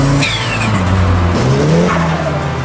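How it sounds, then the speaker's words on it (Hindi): A turbocharged car's turbo flutters as compressed air escapes back through the compressor, a loud, continuous rush of engine and airflow with tones sliding up and down over nearly three seconds. "थोड़ी बहुत हवा टर्बोचार्जर में से वापस निकलने की कोशिश करेगी और वो थोड़ी बहुत निकल भी जाएगी"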